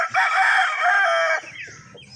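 Gamefowl stags crow loudly and close, one long drawn-out call with harmonic bands lasting over a second, then fading into softer clucking and low rustling.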